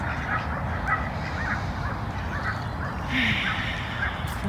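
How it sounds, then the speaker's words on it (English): White ducks in a park quack repeatedly in short, irregular bursts at close range, over a steady outdoor background; a sharper, louder call stands out near the end. "3 beautiful white ducks."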